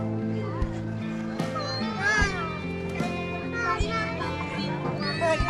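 A cat meows repeatedly on an outdoor walk in the Philippines, the cries rising and falling over steady background noise while people talk nearby.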